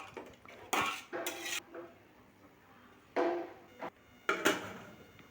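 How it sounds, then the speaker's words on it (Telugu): Metal lid set onto a cooking pot of chicken biryani, giving several sharp clanks and clatters of metal cookware, close and loud, with brief pauses between. "వాటర్ వేసుకొని మూత పెట్టుకొని కొంచెం ఉడకనివ్వాలి"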